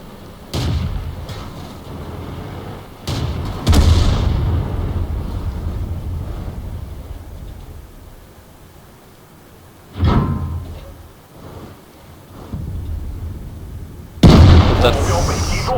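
In the video game World of Tanks, an IS-2 battle brings several loud booming tank cannon shots spaced seconds apart, each ringing out over rumbling engine noise, with someone commentating throughout.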